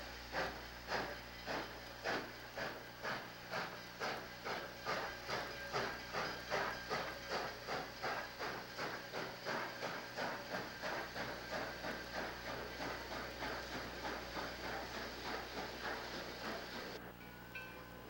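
A train heading toward Fort Erie passes at close range, its wheels beating a steady clacking rhythm over rail joints under a continuous rumble and hiss that gradually eases.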